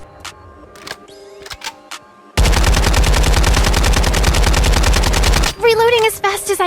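Sustained rapid automatic gunfire from hip firing in the video game Farlight 84, loud, dense and continuous for about three seconds, following a few scattered clicks and preceded by quieter game sounds, then giving way to chirpy electronic effects.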